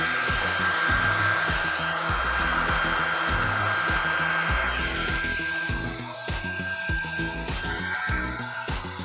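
A hair dryer blows steadily to dry paint on the bottom of a Christmas wall hanging craft, a loud continuous whirring hum with a thin high whine running throughout.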